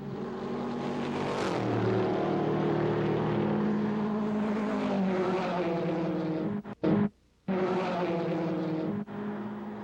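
A racing car with an open exhaust roars loud and near, its engine pitch swelling and falling as it drives, cutting out abruptly for a moment before the roar returns.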